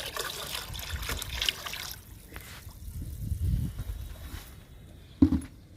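Undiluted liquid fertiliser trickles and splashes steadily onto fruit plants, a soft, close pour with faint rustling and a brief louder knock near the end.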